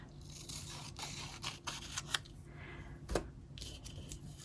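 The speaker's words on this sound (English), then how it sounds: "I'm going to use my scissors to cut this one down." Scissors snip through delicate vintage paper in a quiet room, a few crisp close cuts and rustling of the sheet between them.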